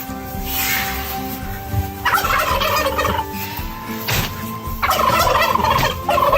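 Chickens being fed make loud, rapid, warbling gobble-like calls that come in repeated bursts close by, overlapping one another with short gaps between.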